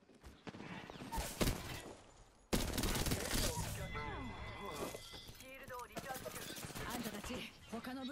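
Gunfire in Apex Legends while the player is under attack, with bursts of rapid shots and impacts mixed among other game effects and voiced callouts.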